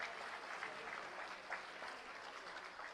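A crowd claps steadily at a moderate distance at a school building inauguration, a dense, even patter of applause lasting throughout.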